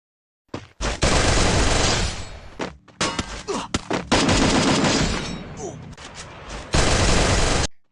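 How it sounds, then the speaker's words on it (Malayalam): Gunfire sound effects in a mafia-style fight scene: loud, close volleys of rapid shots in several dense bursts separated by brief gaps, with no talking. "ഈ വെടി എവിടെ നിന്നൊക്കെയാ വന്ന?"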